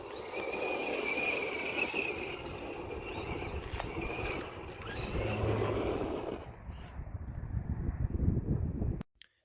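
A Tamiya Blackfoot RC truck runs at full throttle on loose ground, its electric motor whining loudly under gusting wind noise, with gravel crunching and rattling before the sound suddenly cuts out.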